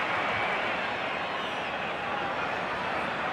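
Stadium crowd at a 1996 State of Origin rugby league match, a dense continuous roar of cheering from thousands of spectators, broad and distant, holding steady throughout without breaks.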